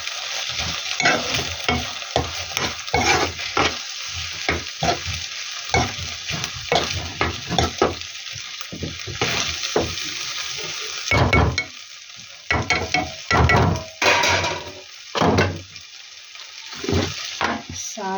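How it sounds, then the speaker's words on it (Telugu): Grated potato frying in oil in a pan, a steady sizzle broken by repeated scraping stirs of a spatula, close and moderately loud, with no talk. "ఈ ఆలుగడ్డ కొంచెం మంచిగా ఆయిల్లో ఫ్రై అవ్వాలి."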